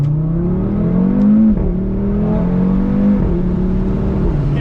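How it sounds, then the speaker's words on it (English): An Audi RS3 with a sports exhaust and resonator delete accelerates hard, its engine note climbing through gears with brief dips at shifts, loud and close from inside the car. "This is a sports exhaust with a resonator delete, which means you're running full cats."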